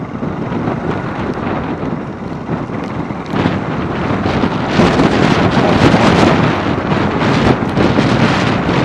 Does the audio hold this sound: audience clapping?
no